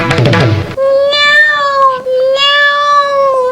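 A person imitates a mother cat's meow with a voice, drawn-out wavering mewing cries, loud and close, following a brief burst of talk at the start.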